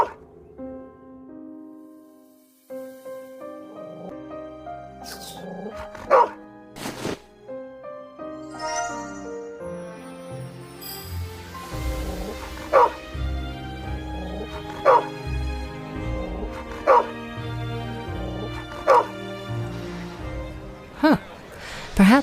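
A dog in the video game Dark City: Amsterdam yips, whimpers and barks in short bursts over game music with footsteps, a close, moderately loud call that comes back several times.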